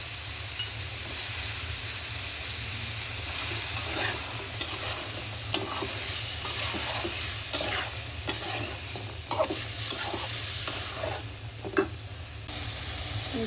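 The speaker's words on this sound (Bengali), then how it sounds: "আমি আগে কাঁঠালের বিচি আলু দিয়ে একটু ভালো করে কষিয়ে নিব" Jackfruit seeds and potatoes are stir-fried in a pan, giving a continuous close sizzle with scattered clacks and scrapes from the stirring utensil and no voices.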